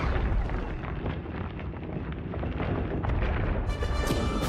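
A video game explosion in Star Fox: a sustained dense roaring blast with repeated booming bursts, loud and close, ending in a bright crackling hiss.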